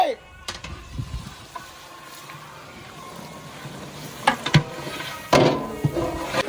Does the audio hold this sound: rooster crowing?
no